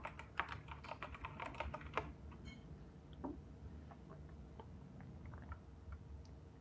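A computer keyboard typed on at close range, a rapid run of crisp key clicks during the first two seconds, followed by a few scattered taps over a low steady room hum.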